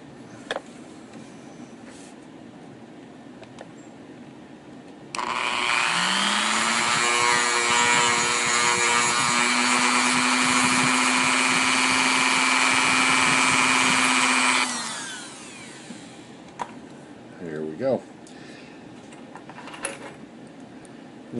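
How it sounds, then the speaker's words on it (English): A small power grinder grinds down a tiny nub on an Aurora HO slot car T-Jet trailer hitch part, a loud, steady high-pitched whine that spins up, holds for about ten seconds, then winds down, followed by faint handling clicks. "I got my grinder out, and I'm going to go ahead and grind that down"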